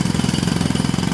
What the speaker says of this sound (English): That was the sound of a jackhammer